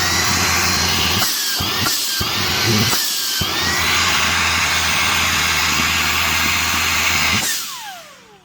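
A Shark WandVac handheld vacuum runs with a loud, steady motor whine and rushing suction, cutting out briefly a few times before winding down at the end.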